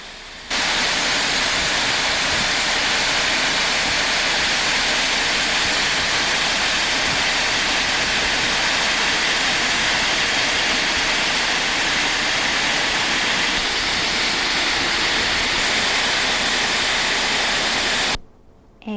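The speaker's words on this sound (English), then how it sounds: "there you see the water, the waves lapping over them" Water washes over rocks and pebbles in a steady, loud rushing hiss that continues unbroken for most of the stretch, then stops abruptly at the end, with no voices.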